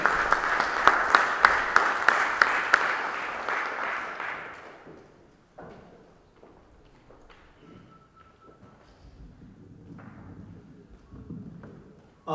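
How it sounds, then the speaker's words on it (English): An audience at a humanist conference in Melbourne, Australia applauds to welcome a plenary speaker, with loud steady clapping and a few sharp individual claps that fade within a few seconds into quiet hall noise, thumps and footsteps. "Please join me in giving a round of applause to invite for the first plenary speech"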